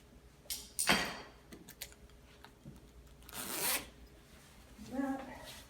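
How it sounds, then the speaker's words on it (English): The zipper on a suit is pulled in several quick, close rasping strokes, with short pauses between pulls and faint rustling of fabric in between. "zipper."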